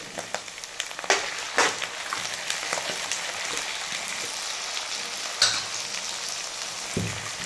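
Tomatoes and coriander hit hot oil in a pan for an onion-tomato egg curry, giving a steady close sizzle with crackling pops and a few louder spatters, no voices.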